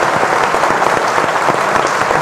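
Studio audience applause on a Turkish live television talk show, dense steady clapping from many hands, loud and close, continuous throughout with no talking.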